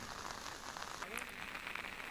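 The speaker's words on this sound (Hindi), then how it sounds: "बीजापुर में भारी बारिश से सैकड़ों घर तबाह।" Heavy monsoon rain falls steadily in Bijapur, a broad constant hiss of rain on surfaces that sounds close and fills the whole moment without a break.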